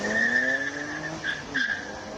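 A BMW E90 race car at a hill climb event near Cape Town, its engine note rising as it passes, with a squealing tire whine and a brief surge before fading.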